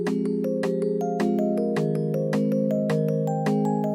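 Crank music box plucking a steady chord change in triplet rhythm, each bright metallic note struck in even groups of three against a sustained low chord, close and clear with no voices.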